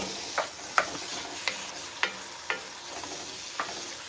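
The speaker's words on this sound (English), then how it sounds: "Give it a stir." Bear meat chili with tomato paste stirred in hot grease, a soft sizzle punctuated by about six distinct spoon scrapes and clinks against the pot, close and irregular, with no voices.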